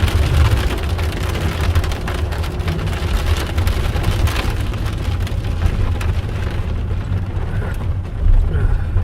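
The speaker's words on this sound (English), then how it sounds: "Look at it. Hail. It's hailing." Hail pelts down during a thunderstorm in Southern Alberta, a loud dense rattle of stones striking a vehicle, continuous and close with no pauses.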